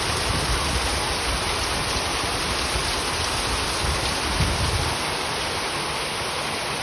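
Heavy rain pours down hard on a street outside small shops, a dense, steady roar that holds constant and loud throughout with no talking.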